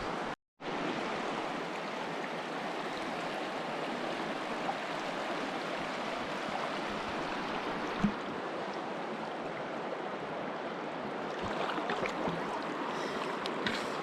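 A river in Zion Narrows rushes steadily and close by, a dense, continuous broadband wash holding constant for the whole stretch, with a brief knock partway through and some extra splashing near the end.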